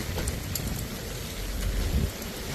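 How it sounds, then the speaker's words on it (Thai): Steady, heavy rain hisses throughout with no thunder, low gusts of wind rumbling underneath and swelling briefly near the end. "แค่ฝนลมนะไม่มีฟ้าร้อง"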